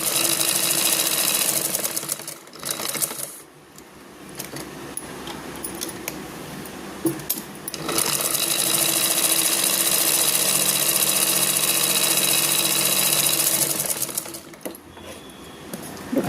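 Sewing machine stitching the corner of a piece of cloth, a steady close mechanical whir running in long stretches with brief pauses between bursts, no talking.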